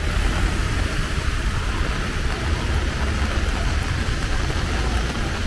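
Heavy rain pours over Dubai streets in a steady, dense roar of water that holds at an even level throughout, with passing traffic blended into the wash.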